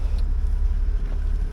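A van engine drones steadily while driving, a close, continuous low rumble with road noise and no speech.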